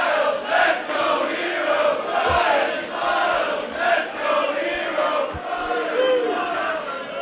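A wrestling arena crowd roars and chants together in rhythmic swelling waves, loud and close, with a few sharp thumps under the noise.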